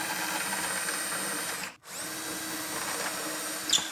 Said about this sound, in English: we're gonna take a self-centering drill bit and we're gonna drill those holes out